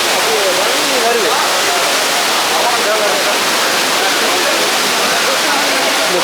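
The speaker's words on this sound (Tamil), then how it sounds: "இதான் அந்த மெயின் ஃபால்ஸ் குற்றாலம்" Courtallam main waterfall roaring steadily and loud, a dense continuous rush of falling water filling the whole span without a break.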